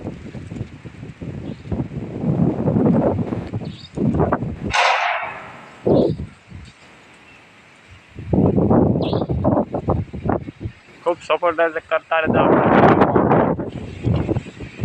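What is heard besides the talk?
wind blowing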